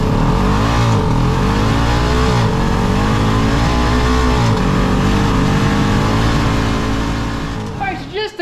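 A turbocharged Pioneer 500 side-by-side launches hard and accelerates, its engine roaring loud and close with rising revs throughout, before cutting off abruptly near the end.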